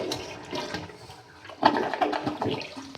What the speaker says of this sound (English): Do a little toilet flush.